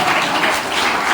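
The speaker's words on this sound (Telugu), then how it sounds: "చప్పట్లు కొడుతూ" A church congregation claps together during a worship gathering, a dense, continuous burst of applause heard alone without talk.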